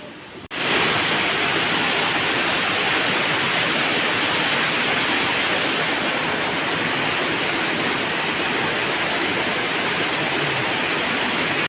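A waterfall at Lobo Cave in Jiabong, Samar, Philippines roars as a loud, steady broadband rush of falling water that starts abruptly and fills the whole clip without letup.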